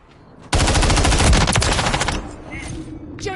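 Automatic gunfire in Call of Duty Modern Warfare 3 bursts suddenly into a loud, rapid sustained volley lasting under two seconds, then trails off into quieter scattered game noise.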